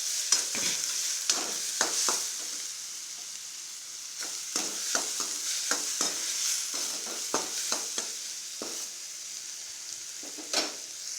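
Ridge gourd sautés in a hot pan with a continuous sizzle and frequent scraping taps from a spatula stirring, no voices.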